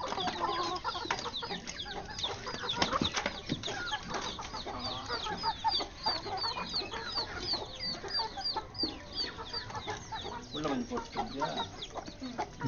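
Several backyard chickens cluck and chatter continuously at close range while feeding on azolla, with scattered pecking and scratching noises and occasional louder calls mixed in.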